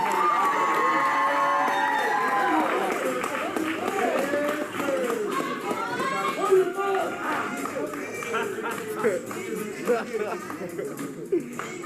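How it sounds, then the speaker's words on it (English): A lively crowd at a 2021 Georgia Knights event cheers and chatters loudly for about twelve seconds, with shouts and whoops rising over a dense murmur of voices and people talking throughout. "clap your hands for the 2021 Georgia Knights"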